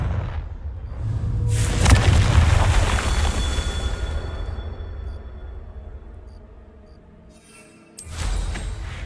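Fire spell explosion in the video game Hogwarts Legacy: a loud, deep booming blast that swells and rumbles for several seconds, fades, then a second burst hits near the end.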